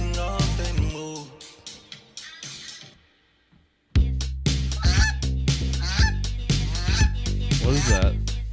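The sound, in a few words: goose honking sound effect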